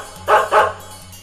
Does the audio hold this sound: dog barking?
yes